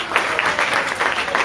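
Audience applause at a Bhagwat katha gathering in Baraut, a steady wash of many hands clapping at close range, sustained throughout with small pulses in intensity.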